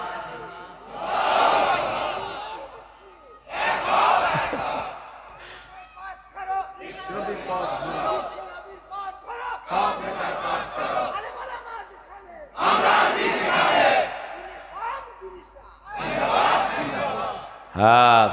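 A crowd chanting slogans in unison at an Islamic waz sermon, loud bursts of collective voices alternating with a preacher speaking between chants.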